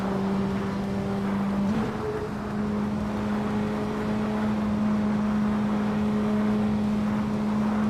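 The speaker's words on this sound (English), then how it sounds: "Beats with Kef is in a Peugeot 208 R2, currently in 16th place" Peugeot 208 R2 rally car engine in a racing video game, a loud continuous droning whine with a steady pitch and a short shift in tone early on, with no talk over it.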